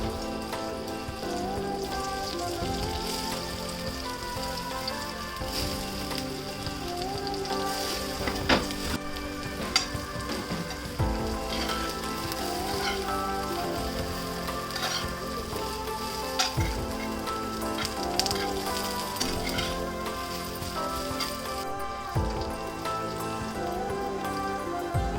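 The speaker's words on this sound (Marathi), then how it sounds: "मस्त अशा भाजून घ्यायच्या. त्याला भाजलेल्या चांगल्या असतात, खाल्याला पण चांगले असतात कमी तेलातल्या." Vadi roast in a pan with only a little oil, giving a steady, even sizzle and crackle that runs close and continuous throughout with small pops, no voices over it.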